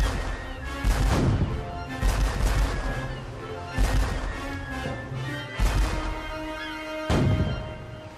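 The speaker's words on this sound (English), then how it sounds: "Hornigold's 3 ships attack the French ship with their guns." Ship cannons fire in a pirate sea battle, several heavy booming blasts spaced a second or two apart over a low rumbling background, with no voices.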